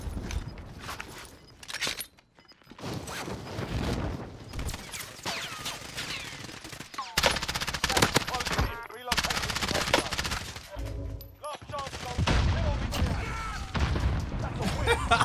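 MP7 submachine gun fire in the video game Call of Duty Warzone, with rapid bursts and sustained automatic volleys mixed with other gunfire, impacts and footsteps, loud and dense throughout, with occasional voices underneath.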